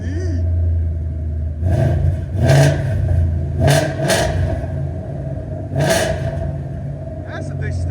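A supercharged Ford Mustang GT with a 5.0L V8, long-tube headers and an axle-back exhaust, idling with a low rumble, then blipped in several sharp revs, close and loud, while people talk nearby.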